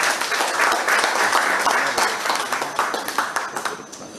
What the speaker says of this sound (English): let us give one more round of applause for all of the cadets today